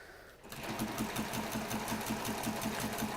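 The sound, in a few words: sewing machine stitching a quilt block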